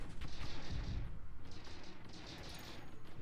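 Broadside cannon volleys from a warship in the space strategy game Stardrive 2, a string of heavy booming shots and crackling bursts in quick rhythm, loud and close, with no talk over them.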